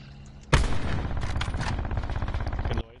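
Rapid automatic gunfire in a first-person shooter game, a loud dense burst of repeated shots running for over two seconds, starting abruptly and cutting off sharply.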